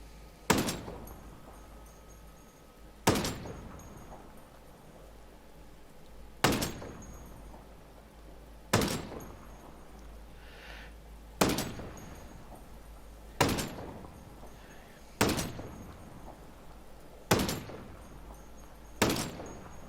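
Shots from a G28 DMR variant marksman rifle in Ghost Recon Breakpoint, nine sharp loud reports fired singly at a steady pace of roughly two to three seconds apart, each with a short decaying tail.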